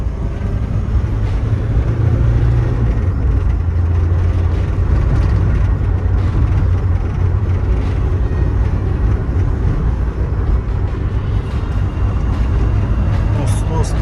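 Renault van driving on a level road in third gear, a loud, steady rumble of engine and road noise that continues unbroken from start to end.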